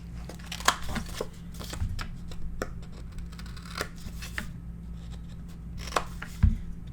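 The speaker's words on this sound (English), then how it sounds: "just taping and trimming my corners." Scissors trim the corners of paper pages for a handmade Stamperia Alice mini album, making soft, scattered snips and paper rustles up close over a steady low hum, with one louder thump near the end.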